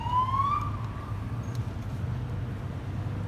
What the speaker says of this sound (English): people hear the ambulance sirens and they comment saying, oh, that's a weird sound